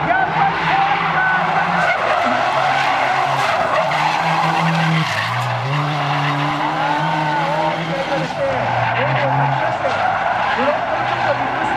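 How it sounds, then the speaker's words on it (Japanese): A rally car on a demo run in Odaiba, lowered ride height, skids and jumps with loud, continuous tire squeal and engine roar rising and falling close by, with crowd and commentary voices underneath. "新井さんの車が心配ですが、見事にジャンプを披露してくれました"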